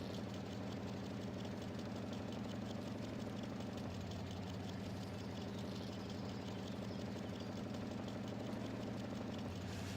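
A Ford truck engine idles steadily in SpinTires, a low rumbling drone with a constant throbbing pulse that holds loud and unbroken throughout, with no talking.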